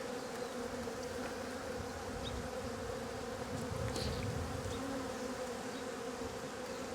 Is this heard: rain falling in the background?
no